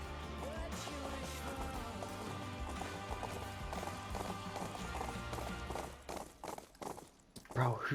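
A horse's hooves clip-clop in the console version of the game Rust, a quick, steady run of close hoofbeats with voices talking over them, thinning into a few scattered thuds near the end.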